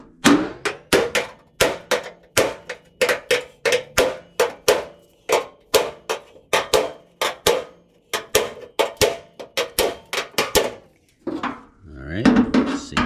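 A small finishing hammer taps rapidly and accurately on the metal fender of a 1964 Impala being reshaped, dozens of sharp close ringing hits in steady runs, with a brief rougher scraping passage near the end.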